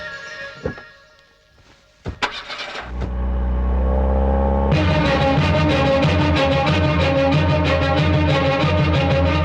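A car starts up and pulls away, its engine rumbling loud and steady after a few brief knocks and thuds, with music playing over it.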